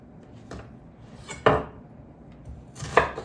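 A knife chops a small piece of onion on a board, giving a few distinct, fairly close taps spread over a few seconds with a faint kitchen hum underneath.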